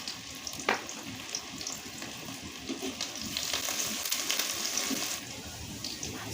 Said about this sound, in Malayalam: ചൂടായ എണ്ണയിലേക്ക് സവാള അരിഞ്ഞത് ഇട്ട് കൊടുക്കുക